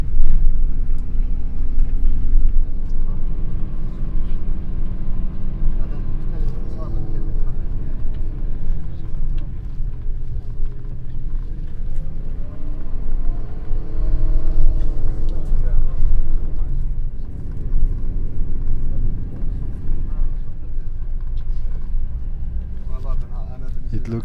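A bus rolls through the town of Wadi Musa near Petra, Jordan, its engine rumbling low and steady throughout with passing traffic, while people talk over the drone.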